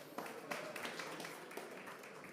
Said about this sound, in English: Please give a round of big applause to Pak Antony.